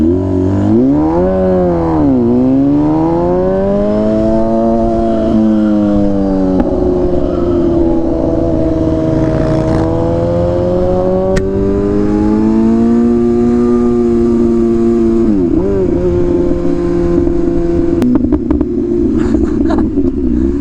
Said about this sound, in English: This bike is such an experience with the exhaust now.